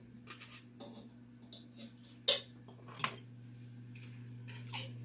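Condensed Campbell's cheddar cheese soup is added from a can to a pot of macaroni noodles for homemade baked macaroni and cheese: scattered metallic clinks and scrapes, with one sharper knock midway, heard close and alone over a steady low hum.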